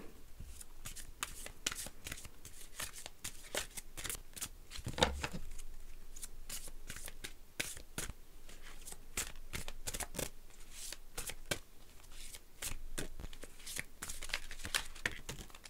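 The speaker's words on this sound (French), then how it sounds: "je vais vous tirer une carte de l'oracle d'Isis qui sera votre petite carte conseil" Oracle cards are shuffled by hand close up, a rapid run of crisp flicking riffles and slaps repeating throughout, with no talk.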